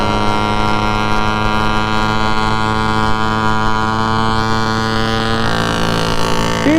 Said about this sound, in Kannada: TVS 50 45 ಸ್ಪೀಡಲ್ಲಿ ಹೋಗ್ತಾ ಇದೆ